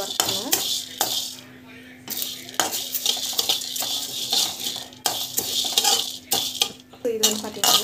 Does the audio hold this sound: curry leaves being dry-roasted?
yes